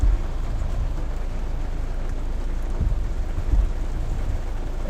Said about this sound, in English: the rain's starting to pick up a little bit again